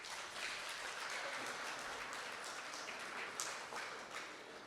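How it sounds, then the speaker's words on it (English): A crowd at a diversity celebration event applauds the mayor, heard as a faint, distant, even wash of clapping that holds steady without pause. "Can we give the mayor another round of applause,"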